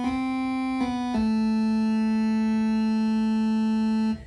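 A pulse wave from a Sequential Take-5 synthesizer oscillator holds one steady buzzy note with dense harmonics, shifting briefly in timbre twice near the start, then sustaining loud and alone before cutting off.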